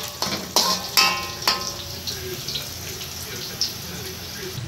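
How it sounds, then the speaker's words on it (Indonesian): Fried onion tempering from a just-switched-off pan is tipped into boiling dhal curry (sambar): a few sharp clatters open a loud burst of sizzling, which settles into a steady crackling hiss close by, with no talk. "Masukkan ke dalam kuadal kita yang tengah mendidih tu"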